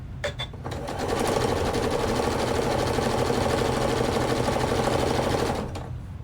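A sewing machine chain-pieces quilt fabric for a fat-quarter baby quilt, running in a steady fast whir of stitching for several seconds after a few brief starting clicks, close and alone.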